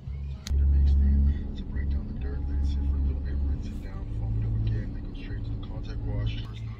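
Interior of a parked car with a low steady engine and road rumble, heavy bass hum swelling and easing, while people talk over it throughout.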